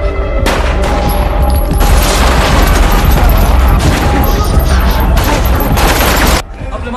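Rapid bursts of heavy gunfire in a film shootout crackle and boom for several seconds, dense and loud, then cut off abruptly into a quieter rumble.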